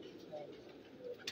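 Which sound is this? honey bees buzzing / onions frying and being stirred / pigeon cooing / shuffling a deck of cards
pigeon cooing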